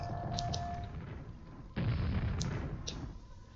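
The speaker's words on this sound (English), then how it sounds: "firing a grenade into somewhere and letting it explode" A grenade explodes in the video game Quake, a sudden loud boom that cuts in partway through and rolls into a dense, rumbling burst which slowly fades, with small clicks before it.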